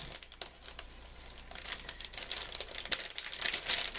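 Thin plastic bag crinkling in bursts of sharp, papery rustles, close and fairly quiet, starting and stopping irregularly as it is handled.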